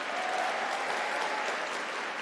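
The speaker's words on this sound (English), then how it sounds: "A round of applause for that." Sustained audience applause fills a conference hall at a political convention, a dense, steady clapping from a large crowd that holds at full volume throughout with no speech over it.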